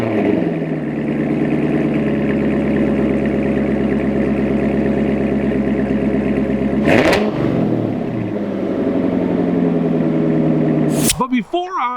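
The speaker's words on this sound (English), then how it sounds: "let's get a little cold start on this Corsa exhaust from the" A 2016 Corvette with a Corsa exhaust idles through a cold start, giving a loud, steady, deep rumble near the car, broken by two short sharp noises before the sound cuts off.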